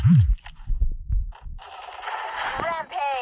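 Pistol gunfire in the Free Fire video game: a sharp burst of shots at the start, followed by bright electronic game sounds, with faint voice-like noise underneath.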